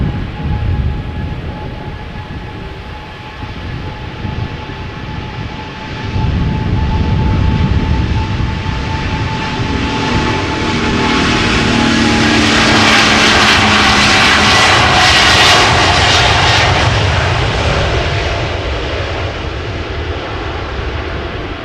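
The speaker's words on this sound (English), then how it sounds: "turning onto the runway threshold is this 777-200 going to Willemstad, Curaçao, KLM flight 733" A KLM Boeing 777-200ER, 19 years old, turning onto the runway threshold at Amsterdam Schiphol, its jet engines spooling up into a loud, swelling roar with a rising whine that peaks and holds, heard from nearby with no voices.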